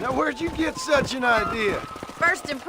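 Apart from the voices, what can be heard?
No everyday noises stand out.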